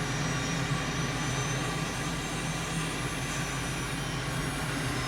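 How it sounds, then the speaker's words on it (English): Steady jet engine roar of an M-346 trainer in a flight simulator game during a crosswind landing approach, a continuous loud drone with low hum that holds level throughout, no distinct throttle surge visible. "Blip in the throttle there because we do have a bit of a crosswind coming in here."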